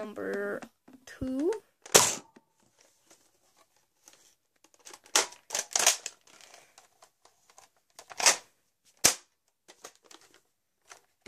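A Nerf blaster fires foam darts in several sharp, dry snaps spread across the stretch, with soft handling clicks between shots and a voice talking briefly at the start.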